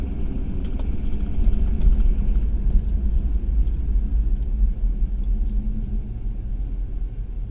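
A car cruising along the I-75 highway at speed, a steady low road rumble and engine drone from inside the cabin, with no voices.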